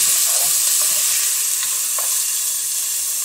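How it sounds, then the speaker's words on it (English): Vegetables sauteing in hot oil at the start of a cabbage soup, giving a steady close-up sizzle with occasional soft stirring clicks and no voices. "Go ahead and saute the vegetables, get those nice and soft."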